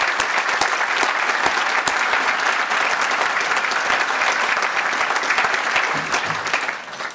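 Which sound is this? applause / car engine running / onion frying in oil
applause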